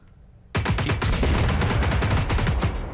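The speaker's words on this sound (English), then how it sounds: "Yeah, he's shooting at you." Enemy gunfire in the video game Generation Zero: a dense, continuous burst of rapid shots starts abruptly after a brief quiet lead-in and keeps rattling loudly to the end.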